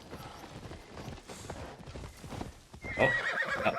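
In the video game Assassin's Creed Shadows, hooves clip-clop in a quick galloping rhythm, then a horse lets out a loud neigh near the end; a voice briefly exclaims at the start.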